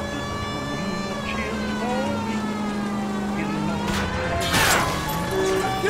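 A wailing police siren rises and falls over engine noise in the video game L.A. Noire, with a brief crash of impact partway through.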